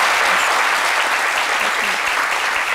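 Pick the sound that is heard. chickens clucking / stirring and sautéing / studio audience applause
studio audience applause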